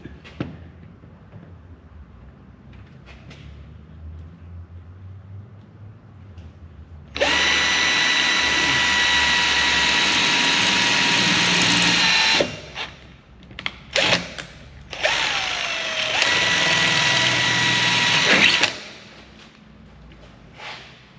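An electric drill whines loudly for several seconds while installing ignition on an LX Torana, stops briefly with a few clunks, then drills again before winding down to a quiet room hum.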